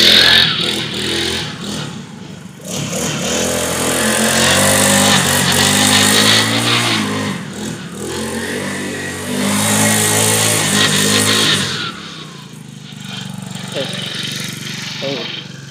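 A four-stroke gas scooter engine runs steadily at mid pitch, revving up and down for several seconds, with a voice talking over it near the end.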